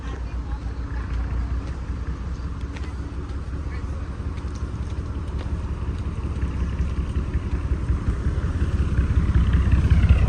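A car reverses in with a steady low engine rumble and road noise that grows slightly louder toward the end, while people talk over it.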